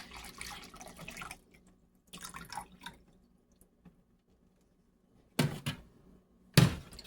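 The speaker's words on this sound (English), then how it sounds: "I am going to take 1 1/3 cups of water." Water poured into a measuring cup for strawberry pie comes in a few short, close splashing bursts separated by quiet pauses, with no talking.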